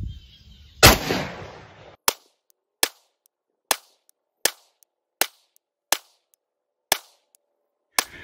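A Galil Ace 5.56 rifle firing Federal 55 grain full metal jacket range ammunition: after a brief rustle, about nine sharp, evenly spaced shots ring out roughly a second apart, crisp and loud against near silence.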